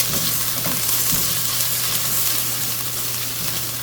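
Garlic frying in a pan as it is stirred, a loud continuous sizzle and hiss with a steady hum beneath and faint scraping of the utensil.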